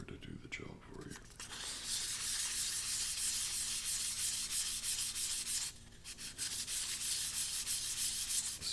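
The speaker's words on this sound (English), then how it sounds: "you want the grit, the surface of the paper to do the job for you" Steady scratchy rubbing of sandpaper on wood, continuous and close, with a brief pause near the end before the strokes resume.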